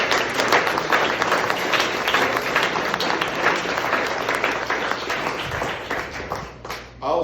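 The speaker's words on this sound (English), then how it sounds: "If we could give them a round of applause" Sustained audience applause fills a baseball banquet room, dense steady clapping from many hands with faint cheers, tapering slightly near the end.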